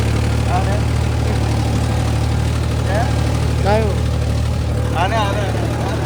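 A tractor engine idles nearby with a constant low, throbbing rumble that never changes pace, while voices speak faintly over it now and then.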